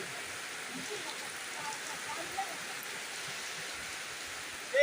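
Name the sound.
rain during a thunderstorm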